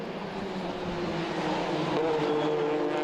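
TCR touring race cars, including a Hyundai Elantra and Honda Civics, racing at the Hungaroring, their engines a steady, distant droning whine that rises slightly in pitch, heard under a commentator's voice.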